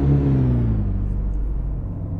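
A VW Golf II GTI engine in City Car Driving rumbles loudly and steadily as the car pulls away, its low drone gliding down slightly in pitch.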